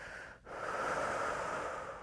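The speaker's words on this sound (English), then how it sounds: "Last full breath in and out here." A slow, deep breath drawn in and let out during a guided yoga session at home, a steady airy rush that follows a brief pause and carries on alone without talk.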